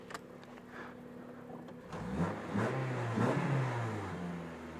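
Honda Civic EG hatchback with a K20A engine accelerating from inside the cabin, a low droning note that swells and climbs in pitch as the revs rise through the gear, with a steady mid-loud engine tone and no talk.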